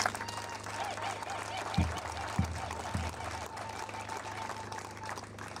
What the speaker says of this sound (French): je demande à l'Assemblée ou à l'assistance ici d'acclamer